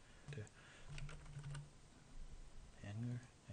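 Typing on a computer keyboard while setting up a keypad interface, with someone talking over it; quiet clicks come in short bursts between and under the speech.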